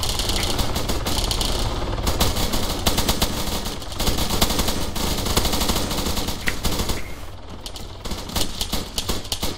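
Gunfire aimed at an aircraft during an air raid: loud, continuous rapid bursts of automatic fire rattling almost without pause, close and dense, easing slightly near the end before resuming.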